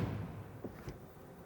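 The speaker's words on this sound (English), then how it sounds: "that almost sounds like this old school G-Class door closing sound" The frameless door of a Mercedes EQS shutting, a short, muffled low thud with a faint second knock, fairly quiet and heard alone.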